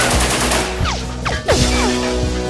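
Gunfire from a WWII aerial dogfight involving Me 262 jet fighters, rapid machine-gun bursts rattling over a loud continuous engine roar with several quick whooshing passes, close and intense throughout.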